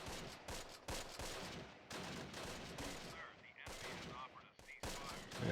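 Anti-tank gun fire in the video game Close Combat: The Longest Day comes as repeated loud, sharp bursts and booms with short gaps between them, alongside rattling machine-gun fire.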